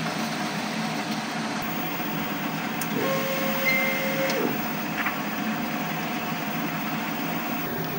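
An inkjet printer runs a head cleaning and nozzle check, giving a steady mechanical whir and hum with faint clicks and a brief tonal motor whine partway through, heard close and continuous with no talk.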